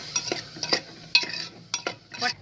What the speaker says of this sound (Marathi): मीठ टाकूया, मसाला टाकूया. चांगलं मिक्स करून घेऊया.